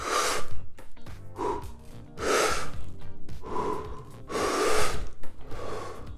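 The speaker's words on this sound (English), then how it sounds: "you take 30 deep breaths in and you partially exhale" Deep forced breathing in the Wim Hof Method, several rounds of strong inhales and partial exhales through the nose and mouth, close and loud, each breath a rushing, slightly snorting gasp in a steady rhythm.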